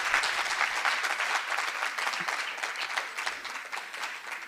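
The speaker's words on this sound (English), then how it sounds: "Let's give her a round of applause" Dense, sustained applause from an audience at a young entrepreneurs panel, a continuous wash of many hands clapping at an even level that tapers slightly toward the end.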